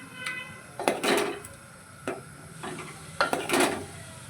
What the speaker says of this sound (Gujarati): આવી રીતે ફેરવી દેવાનું જેમ ગરમ થશે એમાં ઓગળી જશે